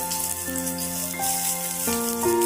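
Ginger and garlic sizzle softly in a hot pan while being stirred, a steady frying hiss under faint background music, with no talking.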